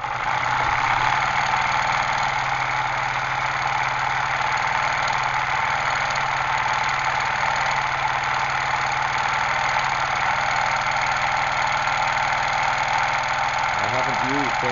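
A Sotropa motor runs with its piston on linear bearing sliders, unlubricated and still wearing in, giving a steady, loud, continuous mechanical drone that holds an even pitch throughout.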